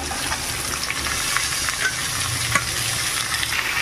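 Steady sizzling of ash gourd pieces frying in a pan, a continuous hiss with faint scraping of a spatula stirring now and then, close by.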